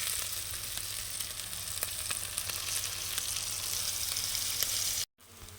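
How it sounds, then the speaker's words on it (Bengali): Bombay duck fish fries in hot oil with chilli powder and spices, a steady dense sizzle with occasional stirring scrapes, close and loud, cutting off briefly near the end. "লটিয়া মাছের জাস্ট কিন্তু পাঁচ মিনিট ভালোভাবে যে নেড়ে নিয়েছি মশলার সঙ্গে"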